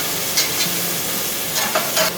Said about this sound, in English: we're just going to saute these, stirring them occasionally for a few minutes